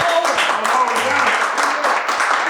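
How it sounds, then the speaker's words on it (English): A live audience breaks into steady, dense applause and clapping that fills the space, with voices talking and cheering over it throughout. "Everybody start clapping right now."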